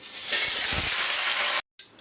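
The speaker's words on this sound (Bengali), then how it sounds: "এই যে আমার পটল ভাজা হয়ে গেছে" Pointed gourd (potol) slices frying in hot oil, a loud, bright, even sizzle that cuts off sharply, then a short quieter burst after the pause.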